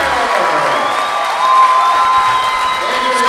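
A girls' high school tournament basketball crowd, Clinton-Massie against Wilmington, roars and cheers after a buzzer-beater score, a dense sustained wall of noise with whistles and shouts throughout.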